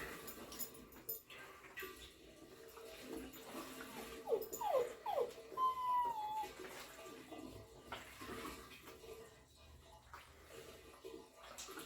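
A dog whimpers with a few short high whines while begging for food during moonshine mash preparation with banana and pineapple, heard over running water and kitchen noise.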